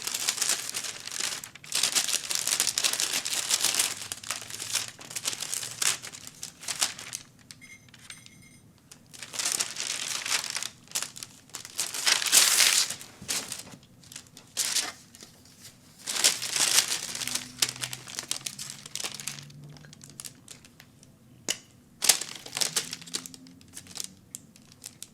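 Paper sewing pattern for a straight skirt being folded toward center back to close a dart, giving bursts of close, crisp crinkling and rustling paper with quieter pauses between handling.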